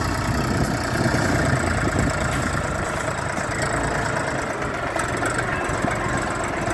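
A four-wheel-drive Orion RD-244 mini tractor with a 24-horsepower engine runs outdoors. Its steady, even drone carries close and constant, with no talking.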